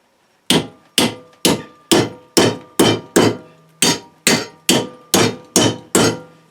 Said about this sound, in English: So now let's just start hammering that. We're going to put 90-degree bends.